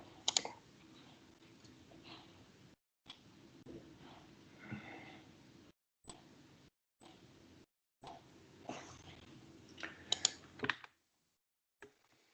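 A computer mouse clicks to confirm an invoice in accounting software, with a scattering of light, close clicks and taps separated by brief silences.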